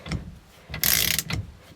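A ratchet wrench tightens the steering wheel nut while a MOMO Prototipo wheel goes onto a Porsche 944, giving close, loud bursts of clicking: short strokes, one longer sustained stretch of rapid clicks, then another short stroke, with no talking.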